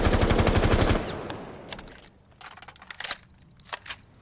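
A rapid, loud burst of automatic gunfire sprays for about a second during a Rainbow Six Siege recoil test at 10 meters, then fades into softer clicks and light mechanical handling sounds.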